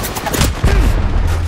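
Gunfire in the mobile battle royale game Apex Legends Mobile, a brief loud burst of shots with a booming low rumble, dense and close.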